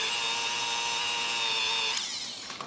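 A Dremel rotary tool polishing an aluminum motorcycle motor gives a steady, high-pitched whine that holds for about two seconds, then shifts in pitch and eases off near the end; no one talks.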